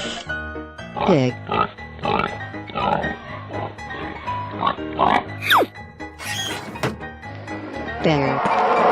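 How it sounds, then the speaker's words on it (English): A pig gives several short grunting oinks in quick succession, mixed into a lively cartoon soundtrack with sliding whistles, thumps and music. "Pig."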